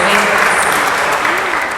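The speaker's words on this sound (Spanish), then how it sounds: "por favor un aplauso para Lalo que nos hace posible todos estos" An audience at a book presentation gives a short burst of applause, a continuous clapping wash that overlaps with a voice speaking over it.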